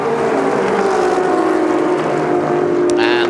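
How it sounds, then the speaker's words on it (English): A Shelby race car drifts out of the final corner during a Sonoma Speed Festival production GT race, its engine a loud, steady, high-revving drone near the microphone. "Out of the last corner they come, drifting the Shelby."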